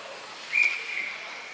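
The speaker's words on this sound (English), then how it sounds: "Blew the whistle." A referee's whistle sounds once at a varsity girls' ice hockey game, a single clear shrill blast of under half a second, fairly distinct over faint rink noise.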